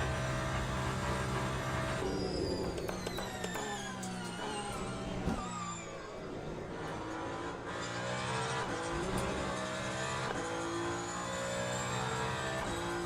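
Race car engines in the Le Mans Ultimate racing game, with a Ferrari 499P hypercar among GTE and LMP cars: a dense, continuous roar of several engines revving and shifting, loud and steady throughout with no speech.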